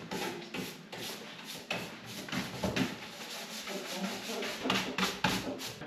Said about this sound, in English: just give it a light sand. You want about 120 grit on a sanding block